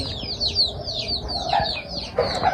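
Clucking and soft calls from a small flock of chickens kept in a home coop, a few chirpy bursts over a low steady background, moderately close and with no talk.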